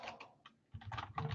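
Quick bursts of keystrokes on a computer keyboard, close and clattering, in an uneven rhythm with a short pause before a denser flurry of taps.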